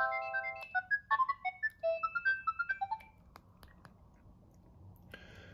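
Polyphonic ringtone from a Sony CMD-J70 mobile phone, a quick electronic melody of bright beeping notes for about three seconds, followed by a few faint clicks and quiet room hiss.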